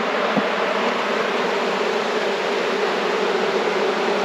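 Honeybees buzzing at an open hive as frames are lifted, a dense continuous hum from many bees close by, steady and loud with no voices.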